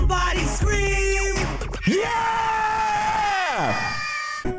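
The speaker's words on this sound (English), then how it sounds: "Somebody scream." A crowd at a hip hop dance circle shrieks and yells in loud, sustained screams, with one long rising and falling whoop standing out up close, above a steady background roar.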